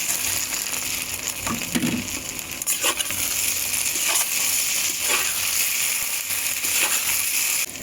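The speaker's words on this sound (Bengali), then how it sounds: "সয়াবিনগুলো ভেজে দেবো" Soybean chunks frying in a pan for chilli soybean give off a steady, dense sizzling hiss throughout, broken by a few faint clinks and scrapes.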